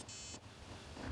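A short electronic notification beep from a phone signals an incoming call, a steady high tone lasting a fraction of a second, followed by a brief louder burst near the end, with no talking.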